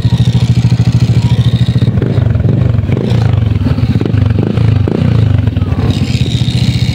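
An Easyride 150Q motorcycle upgraded to a 160cc engine runs close by with a steady, loud idle that rises into revving bursts and mechanical clatter before settling back.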